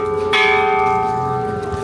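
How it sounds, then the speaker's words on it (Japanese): A single struck peace bell at Hiroshima Peace Memorial Park rings out loud and close, its sustained metallic hum decaying evenly. "あ、平和を鳴らす鐘、"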